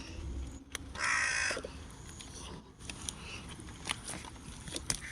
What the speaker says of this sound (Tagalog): Kagalit yung uwak sa akin